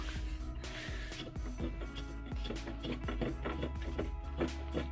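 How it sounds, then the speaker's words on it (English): A loose chunk of catalytic converter material rattles inside the exhaust of a Lexus GS300, a dense, irregular clatter of small metallic knocks over a low background rumble, fairly close and continuous. "That is the sound of a chunk of cat material loose in there."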